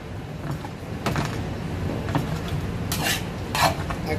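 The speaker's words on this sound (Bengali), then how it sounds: "এখন আমি সবগুলো মিশিয়ে নিব।" Boiled mezze maniche pasta is mixed into red sauce in a pan, giving a steady close scraping and stirring with a few sharp utensil clinks against the pan and a faint sizzle underneath, without talk.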